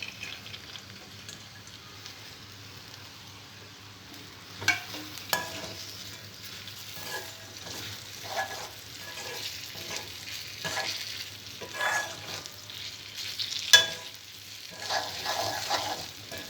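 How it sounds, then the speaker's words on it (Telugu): Mushrooms stirred and frying in oil with coriander powder in a home kitchen pan, a soft steady sizzle with intermittent spoon scrapes and stirring clatters, moderately quiet and without talk. "మష్రూమ్ వేసిన తర్వాత 2 మినిట్స్ ఈ ఆయిల్లో కొద్దిగా మగ్గనివ్వాలి."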